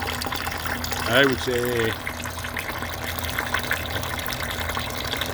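A 12VDC water pump pushes water through a tight drinking-water filter at an off-grid cabin, a steady gushing flow with a low hum, heard under someone talking close by.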